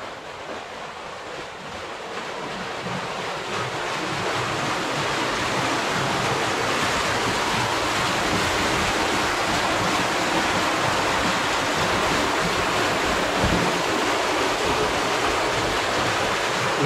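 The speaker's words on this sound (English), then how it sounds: "over here, we can hear the water" River water rushing and flowing nearby, a constant broadband roar that swells slightly louder after the first few seconds, with some wind noise and no talk.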